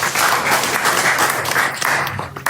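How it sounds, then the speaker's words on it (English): A book launch party audience claps together as a sustained wash of applause, steady and fairly loud throughout, with a brief dip and a few sharper claps near the end. "Now I want you to clap exactly twice as loud as that."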